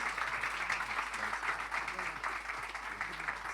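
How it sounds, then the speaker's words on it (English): A crowd applauding steadily at the trailer launch of the Muttiah Muralitharan biopic 800, dense clapping with a voice or two mixed in beneath it. "A big round of applause, ladies and gentlemen."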